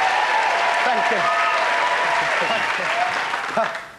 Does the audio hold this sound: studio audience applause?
yes